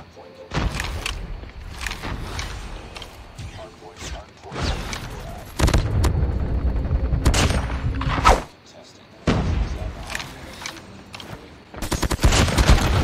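Repeated shotgun blasts in the Krig online shooter game, loud and close, coming in bursts with brief gaps amid other gunfire, while players talk over the action.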